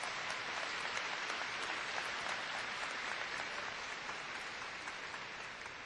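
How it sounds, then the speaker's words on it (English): Large graduation crowd at a North Mesquite High School ceremony applauding, a dense, even roar of clapping that holds steady. "I think we should applaud that."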